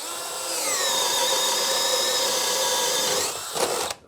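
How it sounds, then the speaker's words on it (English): Cordless 18-volt drill fitted with a 5/8 self-feeding auger bit whines steadily while boring through old wood, close and loud, then winds down with a brief clatter at the end. "5/8 self-feeding auger bit. That's just going to butter right through this old wood."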